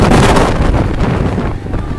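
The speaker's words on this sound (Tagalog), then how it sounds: "Ang lakas ng hangin." Strong wind roars steadily into the microphone during a road cycling race stage in the Philippines, a loud broadband buffeting rush with no voices, easing slightly toward the end.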